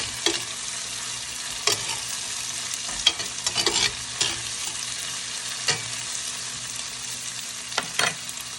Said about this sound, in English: and my hot pepper, my chili pepper. And I'm gonna let this saute, guys.